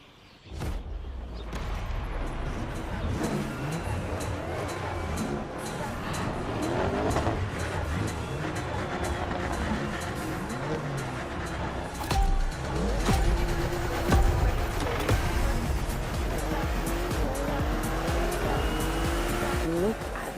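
A BMW M8 racing in The Crew Motorfest, its engine roaring loudly and steadily with shifting revs and tire squeal among other cars, and a voice talking over it.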